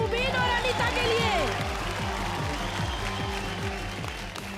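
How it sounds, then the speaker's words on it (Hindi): Studio audience applause on a comedy show, a broad continuous wash of clapping under a strong rhythmic music beat, with a voice briefly audible early on. "एक बार जोरदार तालियां मुबीन और अनीता के लिए।"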